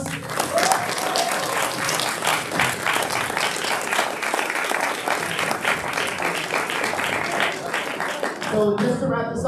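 Audience applause at a Boston City Council at-large candidate forum, sustained and loud for most of the stretch before tapering off near the end, with a voice heard faintly underneath.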